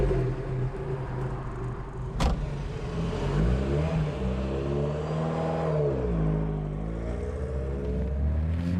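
Lotus Esprit on the road, its engine droning and rising through the revs as it accelerates, pitch climbing and falling with gear changes, heard from inside the car with steady road rumble and a sharp click early on.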